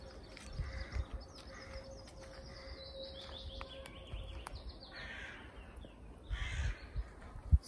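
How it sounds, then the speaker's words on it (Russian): Crows caw repeatedly in a pine forest, harsh calls coming in scattered bursts from moderate distance over a quiet outdoor background. "Ну, какое-то воронье царство мы зашли."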